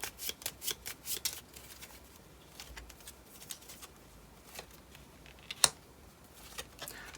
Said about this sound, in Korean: 그럼 두 분의 궁합 카드를 뽑아볼게요.